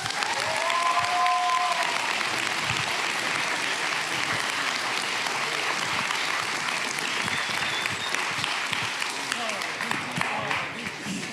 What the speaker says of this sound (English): And please give a big round of applause for Sunny Suljic.